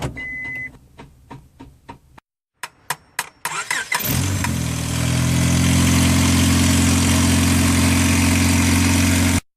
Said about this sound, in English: we're going to see if the car starts